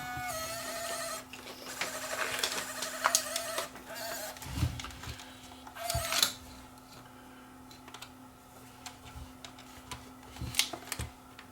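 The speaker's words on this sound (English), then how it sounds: "Let's thread up a tape and see whether anything happens." Sony CCD-TR51 8mm hi-fi stereo camcorder, worn and in poor condition, threading a tape: close mechanical whirring with clicks and a steady hum, with sharper clunks near the middle and the end.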